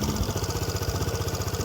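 A 2016 Piaggio Medley 125 scooter engine idles close by with a steady, rapid, even putter that stays constant for the whole moment, with no talk over it.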